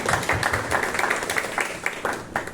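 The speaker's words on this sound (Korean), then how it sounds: "박수를 격려 부탁드립니다" Audience applause at a debate and Q&A session of a national retreat, a fairly close burst of clapping with uneven, rhythmic peaks that fills the short moment without talk.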